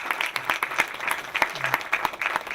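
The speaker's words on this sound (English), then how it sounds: "I think that's something to give a round of applause." An audience at a Richmond Public Schools announcement on a grant against childhood hunger bursts into steady, dense applause, many hands clapping together at moderate loudness with a faint voice briefly underneath.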